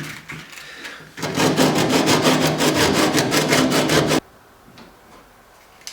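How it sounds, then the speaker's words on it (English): Hand sanding of wooden canoe bow tips during a boat build, a steady rhythmic rasping back-and-forth stroke lasting about three seconds, loud and close, then stopping abruptly into quiet room tone. "Now that I have the bow tips sanded and fit nicely at the bow end"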